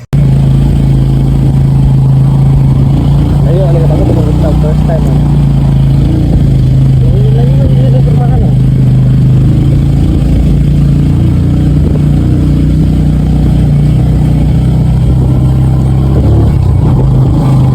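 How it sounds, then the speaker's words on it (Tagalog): A motorcycle engine runs loudly and steadily close by, a constant low hum and rumble, while someone talks briefly over it. "Kaya pakita na ko ang tingog sa motor."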